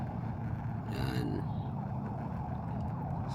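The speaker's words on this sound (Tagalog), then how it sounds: "So may nasundan po ako ditong ambulansya" An ambulance siren sounds briefly and moderately near amid steady, loud road traffic on Commonwealth Avenue in Quezon City, Philippines, its rising wail standing out for about a second over continuous engine rumble.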